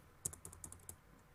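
A formula being typed on a computer keyboard in a spreadsheet: a quick burst of about eight close key taps, crisp and fairly soft, in an otherwise quiet room.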